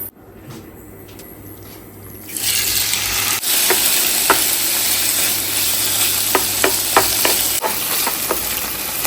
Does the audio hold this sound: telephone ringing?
no